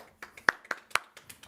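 Sparse hand claps, about eight sharp slaps spread irregularly over a second and a half, moderately close with short gaps and no talk.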